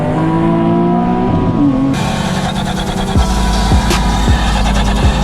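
A VR30 engine fitted with a custom Turbosmart blow off valve revs and drops, then gives a series of sharp, loud whooshing releases in quick succession over a deep engine rumble, with no talking.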